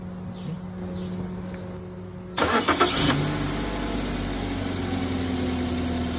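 A car engine starts during a battery and starter test: faint background noise, then a sudden burst of cranking that catches and settles into a steady, close idle.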